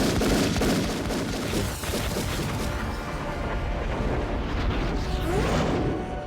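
Heavy gunfire roars in a dense, loud barrage of overlapping shots and booms that fills the whole stretch without pause and with no talk.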